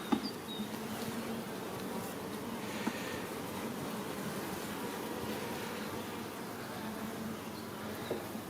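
Many honeybees around an open hive hum in a soft, continuous drone, a low steady buzz with faint occasional clicks and no voices.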